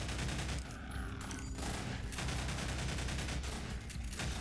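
Sustained, heavy gunfire in the video game Half-Life 2, a dense fusillade of rapid shots that runs loud through the whole stretch, with brief lulls where the bursts thin out before resuming.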